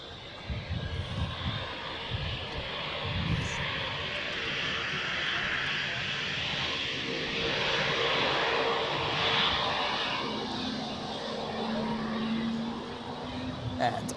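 A jet airliner departs Zurich Airport on the domestic flight to Geneva, its engines making a continuous, even roar with a low rumble lasting throughout.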